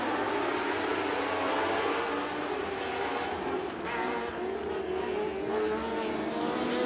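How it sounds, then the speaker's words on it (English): Dwarf race cars rolling off for a heat race at Crossville Speedway, a wash of engines droning and building at a distance, with a brief dip midway. "We're fixing to go green flag in heat race number 2 in your Crossville Speedway Dwarfs."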